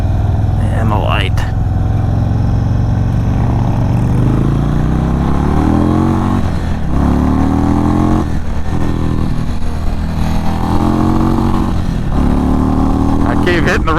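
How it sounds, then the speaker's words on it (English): A stage 2 2022 Indian Chief Dark Horse motorcycle revs loudly and repeatedly into its rev limiter, the engine note climbing in a series of pulled-back bursts, with a voice talking over the sound. "Keep hitting the rev limiter."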